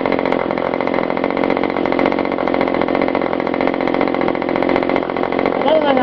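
A Webra Silverline 40 model engine screams at a steady high pitch during break-in, loud and unbroken for the whole stretch with no letup in the buzzing drone.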